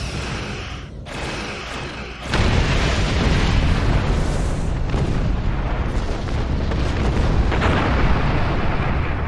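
A destroyed turret explodes in a Star Trek space video game. A deep, loud, rumbling blast surges in after two seconds and roars on steadily for the rest of the clip, following a quieter lead-in. No voices.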